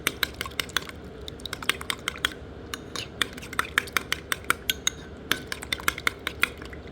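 Quick, rhythmic clinks of a utensil tapping a bowl as egg and blueberries are stirred together, a steady run of close, light ticks with no talking.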